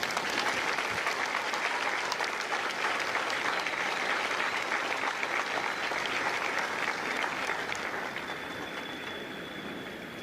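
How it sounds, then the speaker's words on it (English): A large audience at a Marine Corps Kilo Company graduation ceremony in San Diego gives sustained applause, a dense wash of clapping that holds steady for most of ten seconds and then gradually fades. "join me in a round of applause for the officers, the drill instructors, and the families of Company K."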